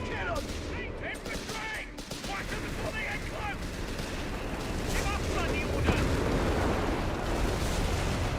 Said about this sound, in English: Ah, high explosive barrage.